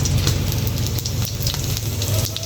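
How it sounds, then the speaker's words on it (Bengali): Four or five dried red chilies and whole cumin seeds sizzle in hot oil, a steady close crackle and hiss throughout. "এই তো তেলটা গরম হয়ে গেছে এখন দিয়ে দিলাম হচ্ছে চার পাঁচটা শুকনো মরিচ আর হচ্ছে গোটা গোটা জিরা"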